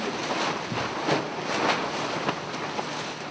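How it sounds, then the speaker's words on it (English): Wind effect for an elemental stage performance that combines fire, voice and a blacksmith's craft: a steady broadband rushing whoosh with gentle swells and gusts, continuous throughout and heard alone without speech. "We have fire, we have voice, and now we have wind."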